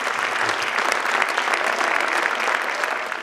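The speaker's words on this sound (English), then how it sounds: "So let's give one last round of applause to all of our award winners this evening." A school conference audience at GlenOak High School gives a full round of applause for award winners, dense sustained clapping from a large crowd, loud and even throughout before easing at the close.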